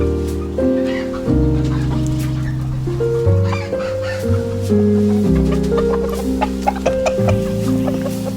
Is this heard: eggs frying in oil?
no